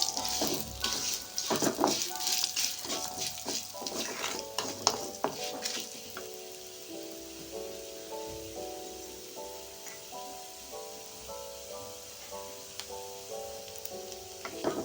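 Spices and lentils dry-roasting in a pan over a low flame, with scraping stirs and clinks near the start that ease into a soft, steady sizzle and light crackle, no voices.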